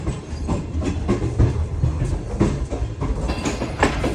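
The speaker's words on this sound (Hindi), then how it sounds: "शाह हुसैन एक्सप्रेस अप्रोच बना रही है मुल्तान में" The Shah Hussain Express runs into Multan with loud, close rhythmic clickety-clack of wheels over rail joints and a steady rumble beneath.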